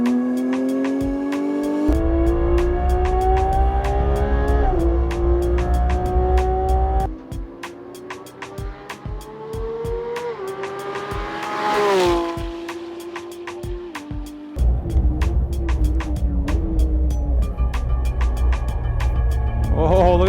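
A GMG-tuned Porsche GT3 RS on a race track, its engine loudly revving up through the gears with sharp shift breaks, tire squeal in the middle, and a high screaming note held near the mic throughout.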